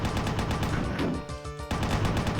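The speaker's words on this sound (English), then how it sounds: "It's literally the chain gun." Rapid, evenly spaced bursts from the chaingun in a Doom mod, loud and continuous, with a short clean electronic tone partway through the volley.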